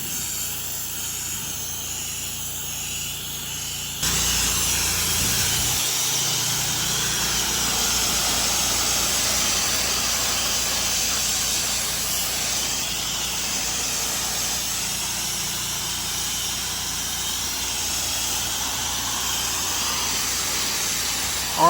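A pressure washer with a 2.3 downstream injector sprays a filthy house, a steady loud hiss of spray and running engine that jumps up after a few seconds and holds constant throughout, with no talking.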